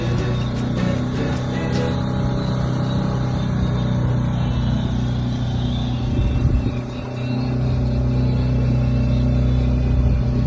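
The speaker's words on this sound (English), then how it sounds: "We just turned the motor on, took the sails down" A sailboat's motor runs with the sails down, a steady loud low rumbling drone continuing for about ten seconds with a brief dip partway through.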